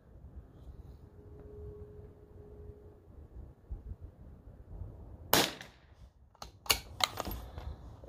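A Christensen Arms Ranger .22lr rifle fires on an outdoor range at 50 yards, with one sharp crack followed by a quick cluster of several more shots after a quiet, windy stretch.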